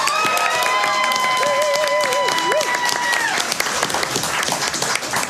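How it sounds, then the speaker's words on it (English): A live audience at a comedy dungeon-adventure show applauds the artist, a loud and steady clapping crowd with some cheering and a few whistles or voices rising above it. "A round of applause for Andrew."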